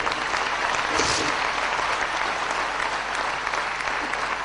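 Loud, sustained applause from a large crowd, steady clapping filling the space without a break.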